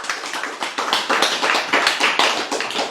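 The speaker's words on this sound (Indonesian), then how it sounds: "Tepuk tangan." Hands clapping in a quick, steady rhythm right after a religious sermon about the end times, each sharp slap distinct and fairly close, continuing throughout without talk.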